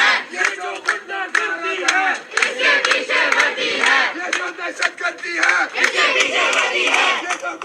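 A crowd of students at LUMS university in Pakistan chants slogans in loud, rhythmic bursts, with many voices shouting together in repeated call-like phrases that rise and fall with brief gaps.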